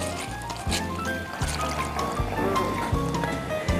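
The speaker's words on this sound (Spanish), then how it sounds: "Y voy a agregar agua." Water is poured into a pan holding hot oil and tomato purée, a close, steady splashing fill with rhythmic low gurgles as the liquid hits the sauce.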